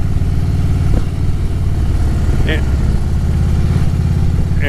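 A motorcycle engine rumbles steadily at low pitch, picked up by an action camera in a waterproof case that muffles it, with someone talking over the drone.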